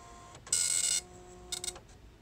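A Star Micronics NX-15 wide-format 9-pin dot matrix printer printing, two short bursts of harsh buzzing print-head chatter, the first about half a second long and the second briefer, close against a quiet hum.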